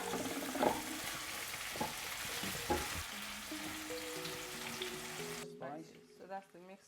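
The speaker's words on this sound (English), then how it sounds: "now I'll just tip the tomatoes in" Tomatoes tipped into a hot frying pan set off a loud, dense sizzle with a few sharper spatters. The hiss holds steady for several seconds, then cuts off abruptly, leaving faint tonal sounds behind.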